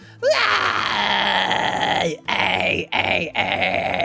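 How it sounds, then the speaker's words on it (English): A single singer delivers a loud, raspy mid-range fry scream, one long sustained burst followed by several shorter ones with brief breaths between them. "this type of fry scream is pretty good for a mid-range fry scream"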